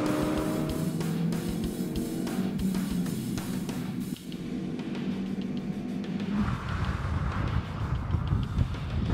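A Ford Fiesta ST, a small front-wheel-drive hot hatch, is pushed hard around a race track, its engine droning steadily and loudly throughout, with the note shifting and roughening toward the end as the car works through a corner.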